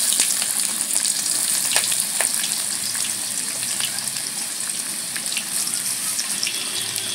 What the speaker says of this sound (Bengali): এইবারে ফোড়নে দিচ্ছি গোটা গরম মশলা, তেজপাতা, দিচ্ছি পেঁয়াজ